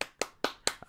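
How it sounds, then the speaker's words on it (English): An audience at a live comedy podcast recording claps in four short, sharp bursts, each one a crisp flurry of hand claps that quickly fades before the next begins. "Who are all these people clapping?"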